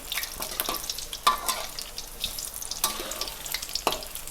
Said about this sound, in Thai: ทอดให้จนมันเหลืองเลยครับ